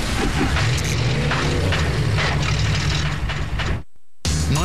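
A cartoon explosion effect from Invader Zim: a loud, dense blast roars for nearly four seconds, cuts abruptly to silence, then bursts back briefly at the end.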